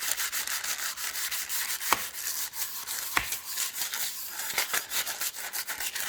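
A small bowl rubs and scrapes across burfi spread over wax paper, a soft, close, repetitive smoothing with a couple of sharper taps.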